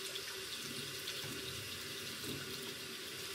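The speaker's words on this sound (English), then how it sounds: "I wash my face with hot water because I feel like it just works better." Hot water runs steadily from a bathroom sink tap for face washing, a close, continuous splashing rush with no talk.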